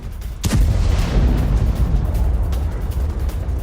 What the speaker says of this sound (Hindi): अमेरिकी बेस पर भीषण आग इस धमाके के बाद लगी।